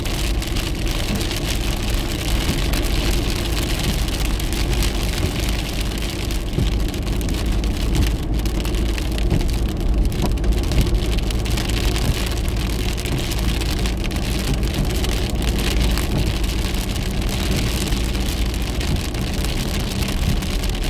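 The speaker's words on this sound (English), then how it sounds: "It was only starting to rain when I left." Steady rain pours onto a surface throughout, a dense continuous patter with a low rumble underneath, with no talking.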